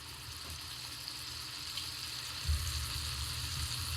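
Chicken sears in a hot cast iron pan for fajitas, giving a soft, steady sizzle throughout with one brief low thump midway; fairly quiet and with no talk.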